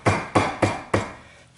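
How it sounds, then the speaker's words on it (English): Four sharp, evenly spaced hammer blows strike a bent metal tip to flatten it, close and ringing briefly, with no talking. "I gotta hammer it down too though, just to make it flat."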